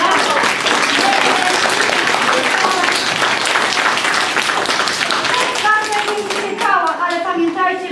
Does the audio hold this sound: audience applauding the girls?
yes